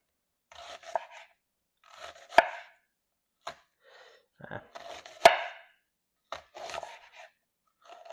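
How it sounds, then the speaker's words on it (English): A knife chops and slices bacon on a cutting board in short scattered bursts, with scraping strokes and a couple of sharp knocks, close and quiet between cuts. "And I'm going to cut it as tightly and as neatly as I could."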